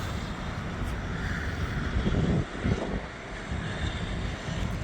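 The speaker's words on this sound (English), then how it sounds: "there's a plane coming into land right now" An airplane comes in to land near a runway east of Trudeau International Airport, a steady broadband engine roar heard from a distance, with wind buffeting the microphone throughout.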